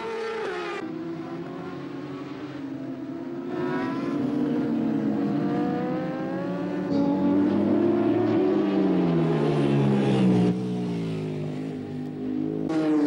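BMW and Kawasaki superbikes racing at the Nogaro circuit, high-revving engines screaming and shifting as several bikes pass, pitch rising and falling with overlapping machines, loud and fairly close.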